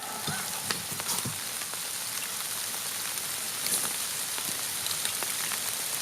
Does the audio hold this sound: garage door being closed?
no